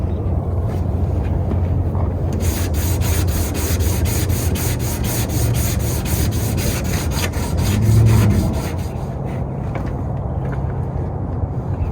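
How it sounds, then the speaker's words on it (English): Steady scratchy rubbing of sandpaper on the body of an 84 Chevy, continuous and close, with a brief louder swell partway through. "Let the sandpaper do the work for you, and just keep sanding."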